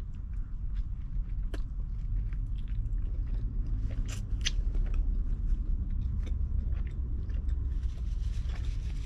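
Chewing on zero-carb, low-fat tortillas, a steady close-up mastication with soft crunchy bites and squishy sounds, with a few sharper clicks throughout and no talking.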